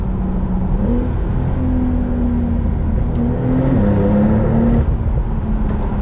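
A Brabus-tuned Porsche 911 Turbo S rated at 820 hp heard from inside as it downshifts and pulls hard, a loud steady engine drone rising and dipping in pitch through gear changes, continuous and close.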